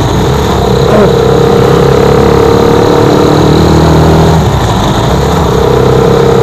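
A Rusi Chariot 175 motorcycle left unused for a week and hard to start runs on Diversion Road, its engine a loud, steady idling drone with an even low rumble throughout and no voices.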